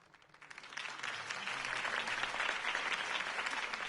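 Crowd applause erupts after Harvey Dent's campaign speech in a Batman video game, rising quickly from quiet into a dense, steady wash of clapping that holds at full strength for several seconds.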